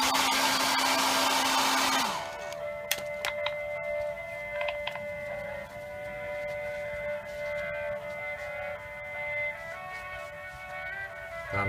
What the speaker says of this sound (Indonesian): ini biar agak kering bisa juga kita hair dryer